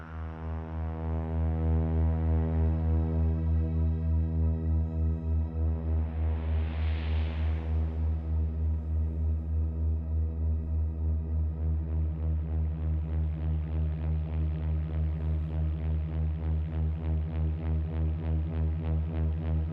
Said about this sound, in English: there's our oscillator going at a very low rate. Let's hear it with some reverb.